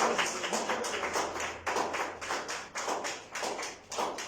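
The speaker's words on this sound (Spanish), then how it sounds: "Dale un fuerte aplauso al Señor." Church congregation applauding, a steady burst of claps close by with a loose rhythm, moderately loud and without talk.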